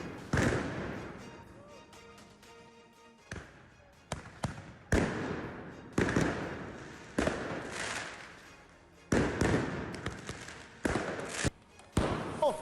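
Firecrackers burst at a violent street protest in Georgia, sharp loud bangs arriving in irregular clusters with echoing tails, some close and some farther off, over a dense crowd background.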